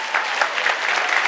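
A conference audience at a sustainability business event applauds, a dense, even wash of clapping from many hands that holds steady at full volume throughout.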